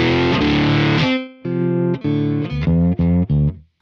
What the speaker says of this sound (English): if you have a distorted amp, now it's amp distortion